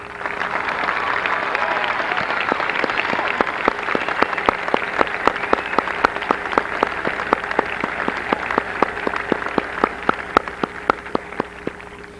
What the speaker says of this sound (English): We all applaud his sincere effort.